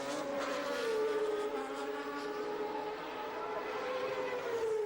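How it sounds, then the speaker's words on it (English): Honda V10 Formula One engine firing up and revving steadily at a 1989 race, a loud sustained high-pitched whine rising and falling with a continuous roar throughout. "And finally the Honda engine fired to a cheer from the pro-Honda crowd."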